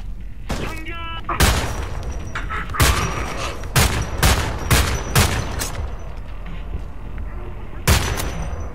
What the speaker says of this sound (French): par contre, le bruit des armes